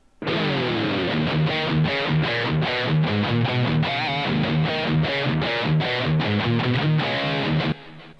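A distorted electric guitar plays an opening riff through a Boss GT-1 effects processor, chugging rhythmic chords in a steady repeating pattern, loud and alone, ending abruptly.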